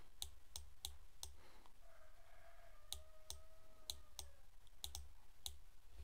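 A computer mouse clicks steadily while animating in Synfig Studio, with about a dozen crisp, isolated clicks in an irregular rhythm over a quiet room hum, close and fairly faint.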